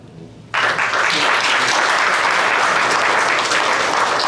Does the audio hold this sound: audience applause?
yes